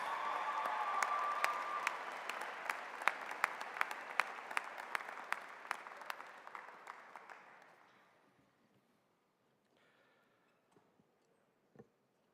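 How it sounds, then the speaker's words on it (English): A graduation audience applauds the ensemble Red Hot, a dense wash of clapping with a few sharper claps standing out, steady for several seconds before tapering off to near silence, then one isolated thump. "another round of applause for a wonderful ensemble, Red Hot"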